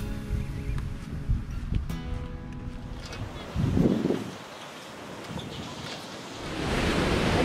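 Ocean surf washes onto a beach at Assateague National Seashore, a broad rushing roar of breaking waves with wind buffeting the microphone and swelling again toward the end.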